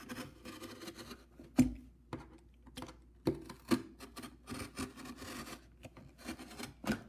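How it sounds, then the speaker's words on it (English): A utility knife scoring a long slot, soft close scraping and rasping strokes with sharp ticks and taps, quiet and irregular, no voices. "But I'm gonna cut a nice kind of long, a long slot."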